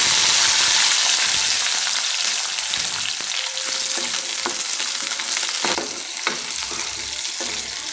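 Steady loud sizzling of onions frying in hot oil for an anchovy fish curry, with occasional stirring scrapes and pops, continuous throughout.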